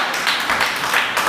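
Church congregation applauding together, a steady dense wash of clapping hands with rhythmic swells, sustained and fairly loud throughout a short burst, with no clear voice over it.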